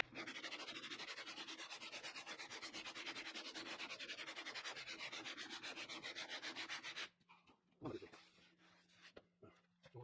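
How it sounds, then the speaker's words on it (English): A truck door on a Dodge Power Wagon is sanded by hand with 40 grit sandpaper, giving a loud, steady rasping scrape for about seven seconds before stopping, followed by faint scattered handling noises. "I got a little bit more I want to sand out"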